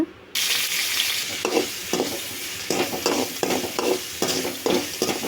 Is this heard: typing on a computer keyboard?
no